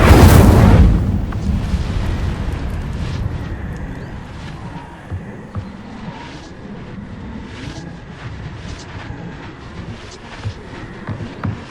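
The Incendio fire spell erupts in the video game Hogwarts Legacy with a loud, close blast at the start, then a long fading rumble and crackle.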